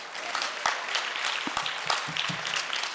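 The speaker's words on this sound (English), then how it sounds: "Give her a round of applause." Audience applause at a fundraising pledge during a keynote event, scattered individual claps that build into moderate clapping from a crowd, mid-distance and fairly quiet.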